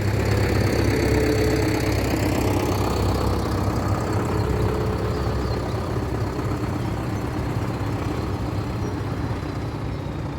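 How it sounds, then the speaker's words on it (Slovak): Tow truck reversing, its diesel engine chugging at a steady low idle throughout, close and constant with no voices. "Takže prichádza odťahovka, už mi tu cúva."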